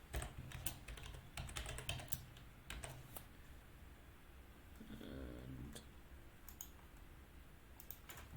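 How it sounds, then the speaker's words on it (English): Keystrokes on a computer keyboard as a password is typed, irregular clicks in quick bursts, moderately close, with quiet room noise between them and no talking. "Type in my password."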